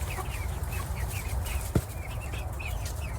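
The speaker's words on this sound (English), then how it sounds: "the type of breed of chickens I have are Buff Orpingtons." Buff Orpington chickens cluck in a farmyard on a cold winter day, a steady stream of soft, repeated clucks close by with a brief sharp thump of wings midway.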